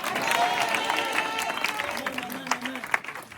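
Church congregation applauding and cheering to acclaim God during a sermon, a broad wash of crowd clapping and voices filling the room, with a preacher's voice rising over it and sharper claps near the end.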